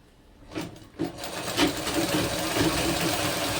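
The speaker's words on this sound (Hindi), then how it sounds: "अब इस पर एक सिलाई चला देंगे ऊपर से" Sewing machine running a line of topstitching along the turned neckline of a kurti, a steady close whirring hum that builds after a few short starts and then runs continuously.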